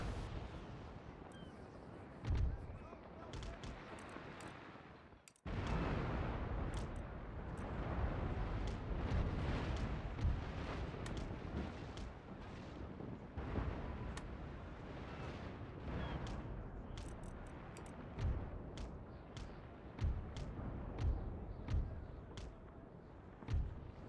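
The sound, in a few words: cannon fire from ships in the video game Empire Total War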